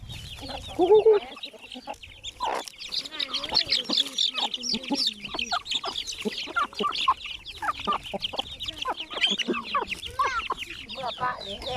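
Chickens cluck and chatter almost continuously at close range on a Thai farm, with busy overlapping calls and occasional louder squawks while people talk nearby.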